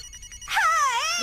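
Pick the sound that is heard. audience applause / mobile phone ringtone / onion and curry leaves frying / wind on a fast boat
mobile phone ringtone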